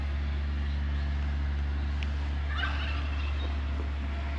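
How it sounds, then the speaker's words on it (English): A distant turkey gobbles faintly over a steady, loud motorcycle engine rumble in rural France, a short warbling call in the middle of the drone. "Turkey over there."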